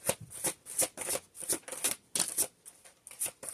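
Crisp riffling bursts of stiff tarot cards being shuffled, repeating in quick rhythmic waves, close and fairly loud, with no talking.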